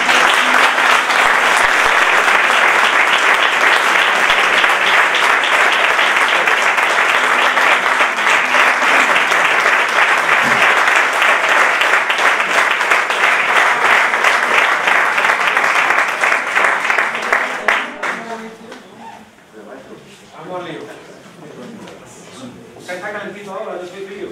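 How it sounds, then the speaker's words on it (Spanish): Loud, sustained applause from a flamenco concert audience, steady dense clapping for about seventeen seconds that tapers off quickly, leaving quieter room noise and a voice afterward. "Vamos a recibirlo con un fuerte aplauso."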